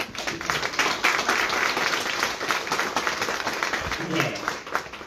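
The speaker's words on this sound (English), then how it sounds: "And so a huge round of applause." A dense round of audience applause rings out at a foundation scholars and donors event, loud and sustained with some cheering mixed in.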